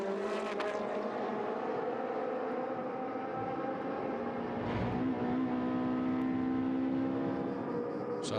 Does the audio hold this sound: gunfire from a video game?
no